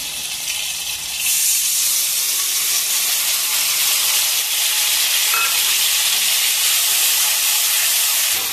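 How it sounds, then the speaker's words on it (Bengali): Ground paste of onion, dried chilli, ginger and garlic frying with tomato in a pan, giving a loud, steady close hiss and sizzle that swells after the first second and holds evenly. "মশলাটা কষানো হয়ে গেছে"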